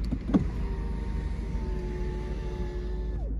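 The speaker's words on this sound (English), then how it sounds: "demonstrate some of the power functions, starting with the windows. Here's the driver's window." A 1997 Jaguar XK8 Convertible's driver's power window motor whirs steadily for about three seconds with a rising whine, ending in a soft thunk as it stops; a brief click precedes it.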